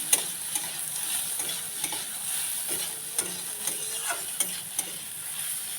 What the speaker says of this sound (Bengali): এবারে দিয়ে দেবো হলুদ গুঁড়ো, দেবো একটু লঙ্কার গুঁড়ো, অল্প করে লঙ্কার গুঁড়ো দেবো, দিয়ে ভালো করে কষিয়ে নেব